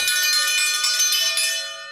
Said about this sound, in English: Chris uses the dinner bell to call chow